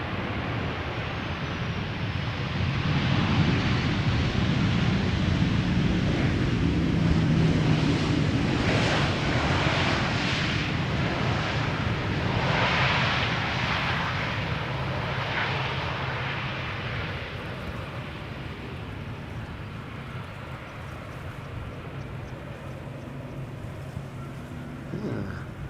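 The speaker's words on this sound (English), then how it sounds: "KLM Flight 1004 arriving from London Heathrow, 737-800, 44 minutes on the way." KLM Boeing 737-800 arriving at Amsterdam Schiphol from London Heathrow, a steady broad jet roar that swells slightly early and then eases off gradually as the aircraft passes at a distance, with wind noise.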